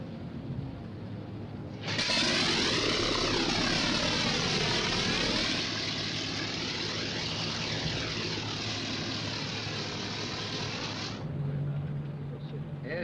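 An old propeller aircraft engine starts up and runs, a loud, close roar that builds and wavers for about nine seconds before dropping back to a low idle, with voices calling out the start-up checks before it fires.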